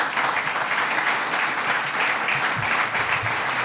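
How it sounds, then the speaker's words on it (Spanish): Applause at a sports awards gala for an award presenter: dense, steady clapping from a large crowd, loud and continuous throughout the short stretch with no pauses and no voices over it. "Pedro Ortiz, vicepresidente del Racing, un fuerte aplauso para él"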